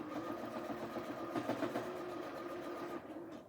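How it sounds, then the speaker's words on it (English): A sewing machine backstitches over the overlap of a pillow cover, a close, steady motor whirr with a brief rhythmic stitching patter in the middle, without talk. "I'm going to go ahead and back stitch over that just to give it some extra security"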